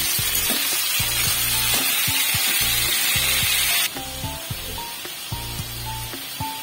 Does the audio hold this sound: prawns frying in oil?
yes